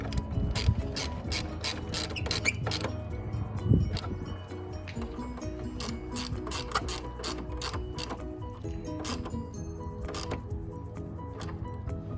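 Ratchet tightening a bolt on an exhaust manifold during an oxygen sensor replacement, rapid close clicking in repeated bursts with short pauses, steady and moderately loud throughout.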